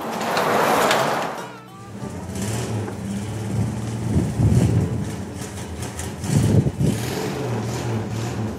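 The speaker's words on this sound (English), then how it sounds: "This car sat for 3 years without being run, and here it is. Started right up." A 1964 Mercury Comet engine, run for the first time after sitting three years, cranks briefly and then catches, settling into a steady, rough idle with occasional revs, close by, under a continuous hum.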